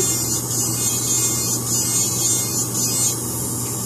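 An electric nail file bevels the grown-out area of a gel French manicure during a rebalance, giving a steady, close, continuous whirring hum with no speech.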